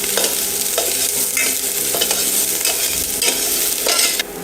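Salted Brussels sprouts with mustard and turmeric sizzle loudly in a pan, with repeated scraping stirs of a utensil over a dense frying hiss; the sound drops off abruptly near the end.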